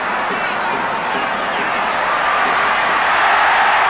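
A football stadium crowd of about 40,000 at a Copa América match in Ecuador roars in a steady, dense wash of noise that swells slightly toward the end, with no clear voices standing out.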